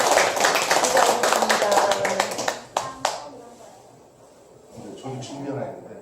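Applause from a lecture audience at an eye-health talk, a burst of many hands clapping that fades within about three seconds, followed by faint murmuring and a few scattered sounds.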